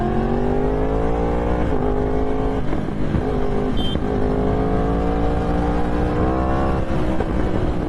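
Yamaha R1 sport motorcycle engine, roughly 200 bhp, revs loud and close in steady rising and falling sweeps, with brief crackling pops from the exhaust as the throttle drops, no voices.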